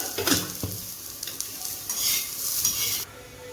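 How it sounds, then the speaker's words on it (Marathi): Onion fries to golden brown in hot oil, a close, steady sizzle punctuated by a few sharp utensil clinks and scrapes against the pan, cutting off abruptly near the end. "इथं कांदा भाजणं चालू आहे। कांदा आता गोल्डन ब्राऊन कलरवर भाजून होतोय।"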